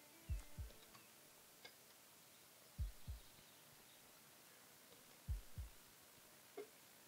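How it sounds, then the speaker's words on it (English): Heartbeat effect from the video game Above Snakes: three paired low thumps spaced evenly a few seconds apart, quiet and steady with no talk over them. "that heartbeat noise is really disconcerting, isn't it?"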